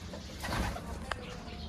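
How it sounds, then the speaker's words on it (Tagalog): Pigeons coo softly in an aviary housing racing pigeons, with low, throaty calls and a brief wing flutter, faint and close. "Ayan yung mga ibon natin dito."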